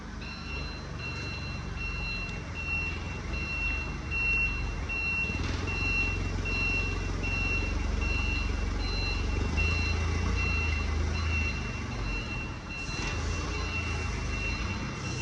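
A counterbalance forklift reverses during a training test, its reversing alarm beeping steadily and piercingly over a continuous low engine rumble, nearby and loud throughout.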